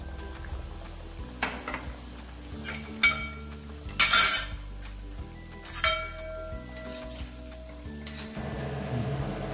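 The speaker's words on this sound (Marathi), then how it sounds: "दुसरी बॅच तळून घ्यायची आहे" Samosas deep-frying in a pan of hot oil: steady bubbling sizzle throughout, broken by a few clinks and scrapes of a metal utensil against the pan.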